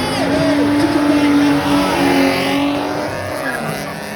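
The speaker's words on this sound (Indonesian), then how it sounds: "Mereka mencoba memberikan RPM tinggi di start awal" A drag race car at an Aceh drag racing championship start holds its engine at high RPM, a loud, steady, close roaring whine with slight pitch wavers, and commentary runs faintly beneath it.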